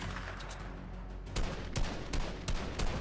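Gunfire in the video game Unreal, a run of sharp, separate shots starting about midway, spaced irregularly over steady game noise at moderate level, no talking.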